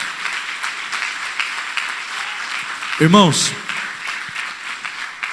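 Congregation applauding in church, a continuous patter of clapping under someone speaking, with a brief louder vocal burst partway through.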